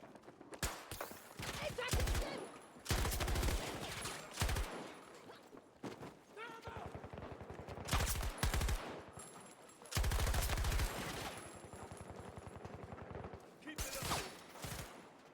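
Automatic gunfire in Battlefield 2042 comes in several loud, rapid bursts separated by short pauses.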